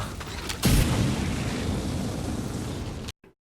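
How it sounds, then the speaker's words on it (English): A grenade blast from XCOM 2 with the Long War 2 mod bursts loudly, then rumbles and roars for a few seconds before cutting off abruptly, with a small thud afterward. "Failing that, we can definitely get a grenade on him."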